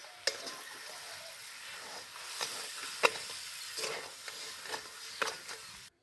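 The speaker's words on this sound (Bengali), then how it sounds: "আমি এইভাবেই অনবরত নাড়তে থাকবো চিনির যতক্ষণে রসটা না শুকাবে" Jujube pickle with sugar is stirred in a frying pan, a soft sizzle with intermittent scraping and stirring scrapes, fairly quiet and without talk.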